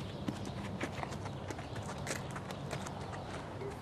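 A horse walks during long-line driving, its hooves making a steady, even clip-clop on the ground. The footfalls are moderately close and sit over a broad outdoor background noise, with no talking.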